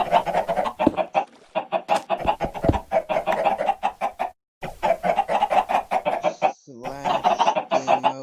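Video-game chickens on an automatic chicken farm cluck in quick repeated bursts, close and fairly loud, with a short pause midway and a denser flurry of squawks toward the end, no talking.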